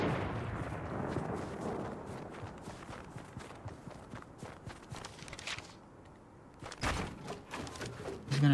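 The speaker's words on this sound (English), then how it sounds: "we're hearing gunshots" Fortnite gunfire crackles in quick bursts of sharp shots mixed with thuds and footstep-like taps, moderately loud and irregular, with a heavy blast near the end.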